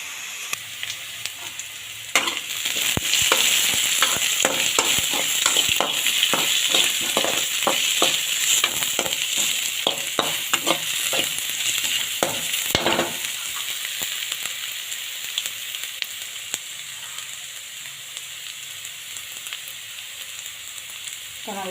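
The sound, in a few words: sautéing pirandai (adamant creeper) in a pan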